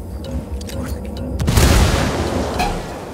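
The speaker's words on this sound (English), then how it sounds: "Frag out!" A frag grenade goes off in Ghost Recon Wildlands, a single loud, broad boom halfway through that rumbles and fades, with distant gunfire crackling before and after.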